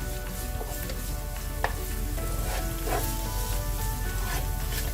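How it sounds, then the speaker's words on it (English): Bay leaf and ginger garlic paste sauté in a hot pan for chicken pulav, giving a steady close sizzle and crackle with a few sharp stirring clinks. "I'm adding the bay leaf, ginger garlic paste, saute it for a few seconds"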